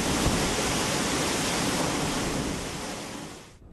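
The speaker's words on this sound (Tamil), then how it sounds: "ஆகாயத்திலிருந்து ஆர்ப்பரித்து கொட்டும் மருவி" A hill-station waterfall crashing down from a height, a dense, loud, continuous roar that fades slightly just before it cuts off.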